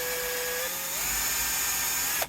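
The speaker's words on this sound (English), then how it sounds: "I'm going to use a drill press to go through" A drill press bores into the bridge of a Gibson J-45 acoustic guitar, a steady high whine with a pitch shift partway through, then it cuts off abruptly near the end.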